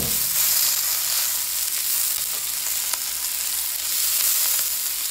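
Peas sizzle steadily as they are tossed in hot fat and avocado oil for house special fried rice, a continuous crackling fry close by with no talking.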